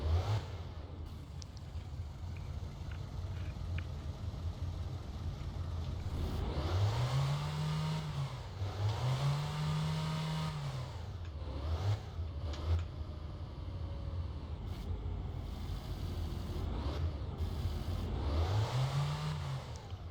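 A winter car's engine hums steadily while driving on a rural road in Finland, rising in a few revving surges as the car accelerates and shifts, heard from inside the cabin.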